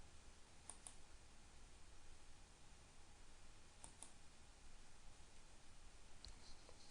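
Computer mouse clicking during work in accounting software, a few faint, sharp clicks, some in quick pairs, over a steady low hiss with no talking.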